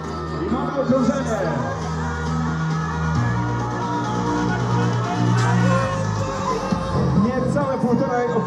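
Crowd at a strongman contest in Rumia cheering and shouting steadily throughout, a dense roar of voices with whoops over a low musical hum, loud and continuous.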